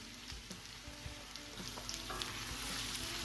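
Garlic and onions fry in melted butter for a creamy garlic mushroom sauce, giving a steady, close sizzle with occasional crackles and spatters that grow slightly louder toward the end, with no voices.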